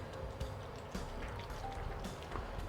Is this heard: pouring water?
yes